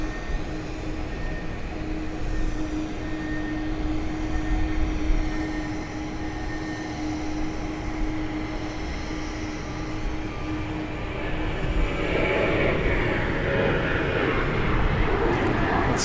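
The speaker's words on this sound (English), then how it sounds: "Let's see what we can see as far as planes taking off" Planes at Gimpo International Airport in Seoul, heard from the observation deck: a constant distant engine hum with a faint whining tone swells into a louder rushing jet roar toward the end.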